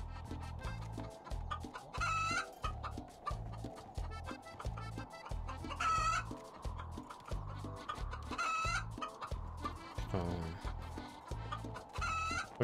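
Clucking chicken in the video game Tale of the Stolen Potato, repeated squawks and clucks over a steady rhythmic thumping game music loop, fairly quiet and without talk.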